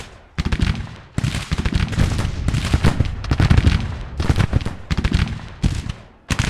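Infantry muskets fire in repeated ragged volleys in the Civil War strategy game Grand Tactician, loud crackling bursts separated by short pauses.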